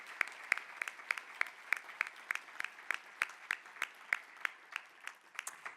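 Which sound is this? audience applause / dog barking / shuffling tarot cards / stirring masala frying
audience applause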